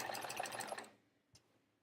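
A sewing machine zigzag stitches around the edge of an hourglass-block quilt, running in a close, even rattling burst for under a second before stopping, followed by a single soft knock.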